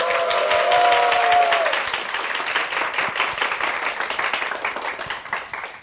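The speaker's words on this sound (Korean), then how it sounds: "박수로 맞아주십시오." A church audience applauds to welcome a deacon, the wife of a man sharing his testimony. A loud, dense wave of clapping starts at full strength with a brief steady tone at first, then thins gradually as it fades.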